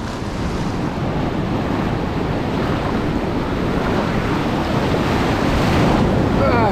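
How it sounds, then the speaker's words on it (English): Ocean waves break on a sandy beach at RAT Beach, a loud, continuous rolling wash of surf with heavy wind buffeting the microphone throughout, no one speaking. "Nice waves though."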